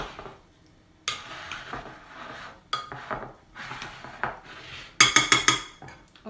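Ingredients for Italian bread rolls are stirred in a bowl with a utensil, producing intermittent scraping and clinking bursts separated by brief pauses, ending in a quick run of sharp taps against the bowl.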